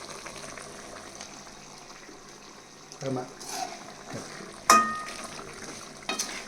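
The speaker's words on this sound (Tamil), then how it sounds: "கொஞ்சம் ஒரு தண்ணி சேர்த்து ஊற்றி ட்ரை பண்ணிக்கிறேன்" Chicken masala cooks in a pan after water is poured in, giving a faint, steady bubbling sizzle broken by a few sharp clinks and scrapes of stirring.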